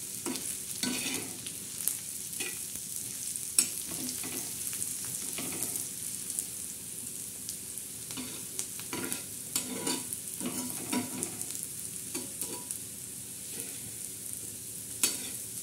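Onions frying and browning in a pan for a spicy fish curry, with a soft, steady sizzle and scattered quiet clicks of a spatula stirring throughout. No voices.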